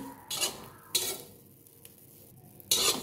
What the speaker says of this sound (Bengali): কালো জিরেগুলো ভাজা ভাজা হয়ে গেছে।